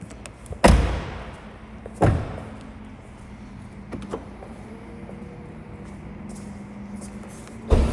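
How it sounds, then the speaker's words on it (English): A 2022 BMW X6 door with soft-close shuts in an echoing indoor space: several loud thuds at intervals and a faint motorized whine as the latch pulls the door closed. "Yes, it does have soft closed doors."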